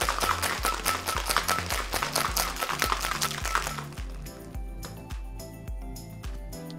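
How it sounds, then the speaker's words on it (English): Rapid rhythmic rattling and shaking with broadband bursts of ice churning inside a cocktail shaker mixing a spicy margarita, then quieter beat-like thumps as it winds down. "Pop that lid, and we're gonna shake up our spicy margarita"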